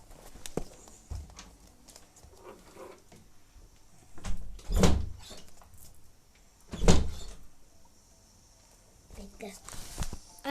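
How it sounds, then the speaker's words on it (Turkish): A door in the Roblox video game closes with two loud, sharp thuds a couple of seconds apart, heard over ongoing speech and light background clatter. "kapıyı kapat"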